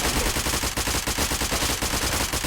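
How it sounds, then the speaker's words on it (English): Full-auto fire from an Armalite AR-180 police carbine in Fallout 4, a fast, steady stream of close, loud shots with no pauses, alone without talk. "this is full auto rate of fire"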